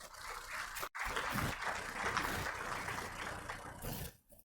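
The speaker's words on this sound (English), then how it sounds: "A round of applause." Conference audience applauding at an investment event, a steady broadband wash of clapping hands from a medium-sized crowd lasting about four seconds with a brief break near the start, then cutting off.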